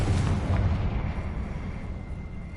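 A Confringo spell explosion in Hogwarts Legacy lands as a dull, rumbling blast with low booming, fading into a sustained roar over the short span, moderately loud, with no talking.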